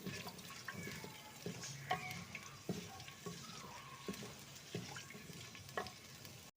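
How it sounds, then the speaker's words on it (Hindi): Garlic ginger paste fries in hot oil for garlic chicken, a soft close sizzle broken by repeated stirring scrapes and clinks of a spoon against the pan. "अब हम इसमें डालने लगे हैं अपना लहसुन अदरक का पेस्ट।"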